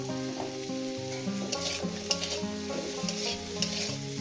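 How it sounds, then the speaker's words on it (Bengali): Eggplant slices fry in hot oil in a pan with a little turmeric, a steady loud sizzle and crackle close by, with occasional clinks and scrapes of stirring and no voices. "দিয়ে এটাকে আমি মিনিট দুয়েক ধরে ভেজে নেব"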